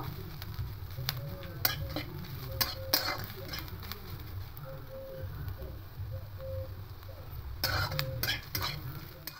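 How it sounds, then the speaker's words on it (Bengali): Quiet sizzling of bitter gourd and potato stir-frying with sesame seeds and green chili, with intermittent scraping and clinks of a utensil stirring, plus faint beeps in the background. "তিল আর কাঁচা লঙ্কাটা দিয়ে আরও 2-3 সেকেন্ড এভাবে একটু নাড়াচাড়া করে নেব।"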